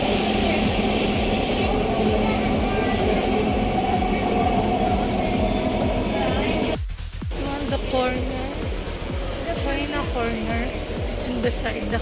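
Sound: new Dubai Metro train

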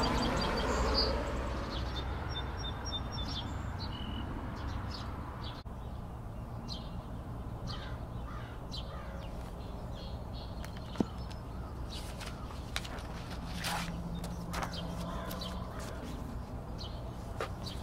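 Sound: song sparrow singing outdoors

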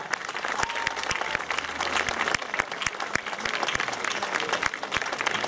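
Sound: audience applause at Walk of Fame unveiling in Zvolen

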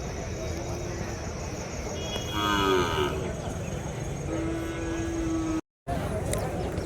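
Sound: cattle mooing at native cattle market

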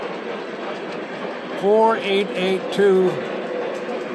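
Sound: model trains running, 4884 Big Boy locomotive

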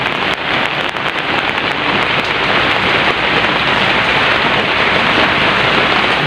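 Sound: heavy rain falling

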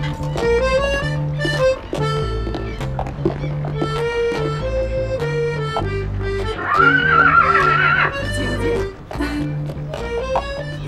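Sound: horse neighing

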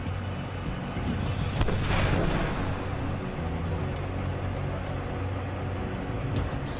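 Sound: explosion

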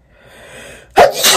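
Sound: sneeze

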